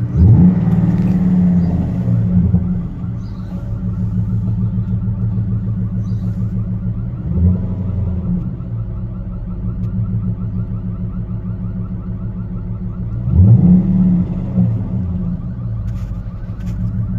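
A 2015 Genesis V8 engine runs steadily after a key start, a loud, close rumbling idle broken by two brief revs that swell and fade away, with no talking.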